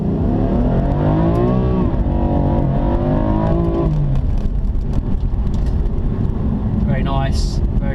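A BMW M4 Competition accelerates hard, its engine rising in pitch through the revs with quick DSG gear changes dropping the tone each time, loud and steady inside the car, with someone talking over it.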